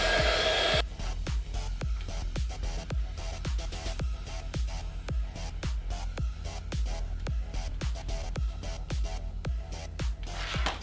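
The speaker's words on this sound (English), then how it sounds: "A bit of glue so that the heat shrink doesn't play around, and shrink it." Heat gun blows a steady hot-air rush while shrinking heat shrink tubing on a homemade antenna, joined by a fast, regular clicking pulse throughout.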